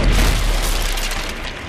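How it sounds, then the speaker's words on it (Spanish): An explosion in the video game Rise of the Tomb Raider, inside a tomb's exorcism chamber, heard as a loud, dense roar with deep rumble that fades only slightly over nearly two seconds, with no voices. "la explosión"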